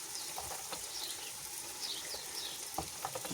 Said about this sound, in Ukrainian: Смажиться і так піднімається.